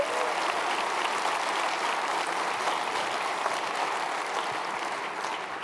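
Sustained audience applause at an Atlassian product presentation, a dense even wash of many hands clapping at steady loudness throughout, easing slightly at the end.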